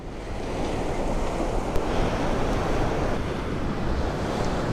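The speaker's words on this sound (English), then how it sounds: "These waves are gonna get you, Rock." Ocean waves break on a beach on the southern Oregon coast, a loud continuous roar of surf with wind noise across the microphone and no talking.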